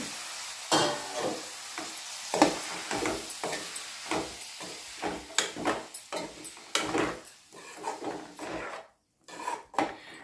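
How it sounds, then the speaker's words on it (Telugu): Tomatoes being stirred into a dry fish curry in a pan: repeated scraping ladle strokes with a soft sizzle underneath, close and without speech, ending in a brief pause and a final few stirs. "ఇందులో టమాటాలు వేసుకొని అంతా కలిసేంత వరకు కలుపుకోవాలి"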